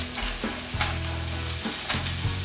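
Onion and carrot stir-frying in a hot pan for a veggie stir-fry, a steady close sizzle broken by a few scraping tosses of the vegetables, with no voices.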